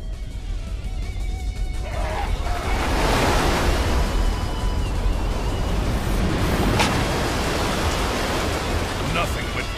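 Rushing water and crashing waves in a video game level, a loud, steady, broadband roar surging and washing throughout with no pauses.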